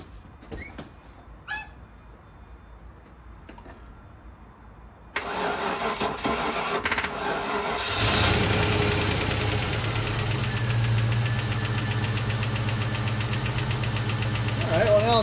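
A Land Rover Discovery engine cranks and catches at about five seconds, then settles into a steady, loud running note from about eight seconds, with a knocking clatter. Brief clicks and faint sounds come before the start.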